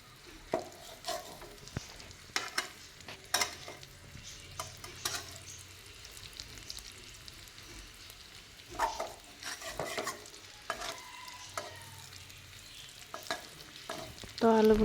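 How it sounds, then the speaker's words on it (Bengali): Cut potatoes frying in oil in a kadai, with a soft steady sizzle broken by clinks and scrapes of stirring and a louder rustle near the end, no one talking. "কাটা হয়ে গেলে খুব সুন্দর করে ভেজে নেব"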